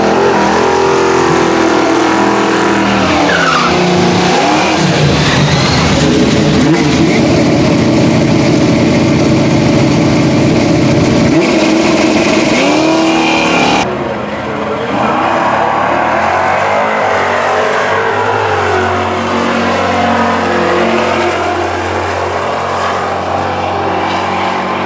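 Carbureted Gen 1 engine in a cheap index-class drag racing car revving loud and close, a sustained roar with rising and falling pitch sweeps, the tone changing abruptly midway as the revs continue.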